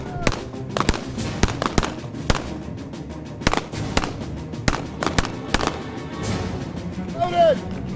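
Sharp handgun shots in a staged training scenario, a rapid series of loud close cracks spaced unevenly across several seconds, with shouting voices in between.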